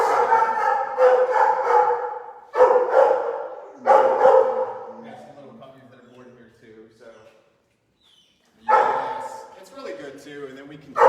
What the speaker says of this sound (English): My other dog, Sasha.